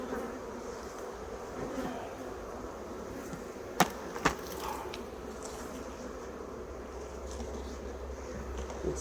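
A steady low buzz of honey bees hums throughout, like many bees close around a hive during winter varroa treatment, with a couple of sharp clicks partway through.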